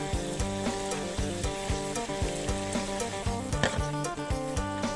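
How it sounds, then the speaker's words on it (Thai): Sago palm weevil larvae fry in hot oil with a loud, continuous sizzle and regular bubbling pops. A steady tonal hum runs underneath. "ทอดต่อไปอีกสักครู่ครับ ขั้นตอนนี้ก็คือ เหมือน กับการไล่น้ำออกจากตัวหนอนให้หมดนะครับ"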